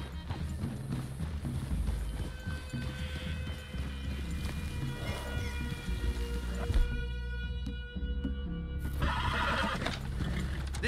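Horses whinnying in a Wild West video game, with hooves clip-clopping as riders arrive at a forest clearing by a cabin, loud and close, along with shuffling and a brief crash among busy game sounds.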